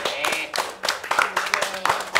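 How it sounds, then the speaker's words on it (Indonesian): A thin smattering of hand claps from a studio audience welcoming a guest on an Indonesian talk show, about a dozen uneven claps over two seconds, fairly close and modest in volume. "Beri tepuk tangan dulu."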